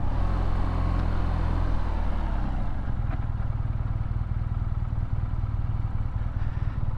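BMW R NineT Urban GS motorcycle engine under way, a loud steady low rumble with wind noise, easing from a higher rev to a lower pulsing drone partway through.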